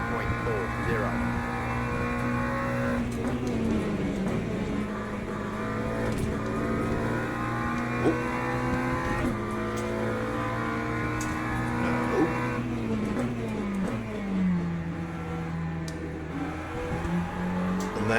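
Race cars in the Le Mans Ultimate sim roar past each other during an overtake, engines droning and shifting pitch continuously over a steady, loud mix for the whole stretch, with no talking over them.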